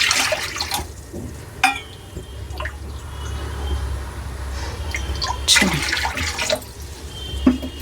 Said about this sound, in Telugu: 3 గిన్నెల నీళ్ళు వేస్తున్నాను నేను.